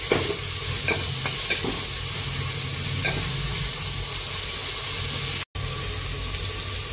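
Tomatoes frying with a bay leaf in a pan make a loud, close, continuous sizzle with a few soft stirring knocks near the start and one abrupt cut near the end.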